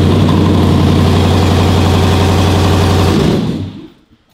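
A Jeep Hemi V8 engine runs at a loud, steady idle with a low, throbbing pulse, then cuts off and fades to near silence near the end.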